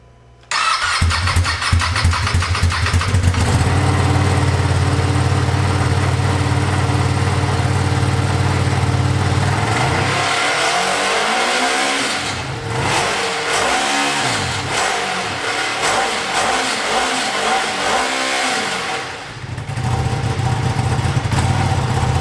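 A 2020 Ducati Panigale V2 L-twin motorcycle starts through its small stock exhaust, then idles loudly and revs up in repeated throttle blips close by. No voices are heard.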